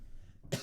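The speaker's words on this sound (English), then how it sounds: "I had to cough there for a second." A single short, sharp cough from a man at a microphone bursts out after a moment of quiet room tone.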